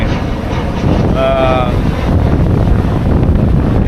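Strong wind gusts buffet the microphone on a beach in Maui, a loud, constant low roar throughout, with a voice speaking briefly over it.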